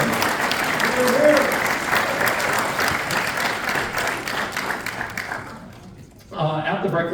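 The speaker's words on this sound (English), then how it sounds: "I would like you to give yourselves a heartfelt round of applause for being here." Sustained audience applause at a city council district debate, a dense, steady roar of clapping that fades near the end before voices pick up.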